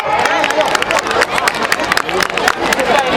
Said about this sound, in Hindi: जोरदार तालियों के साथ बच्चों का अभिनंदन करें।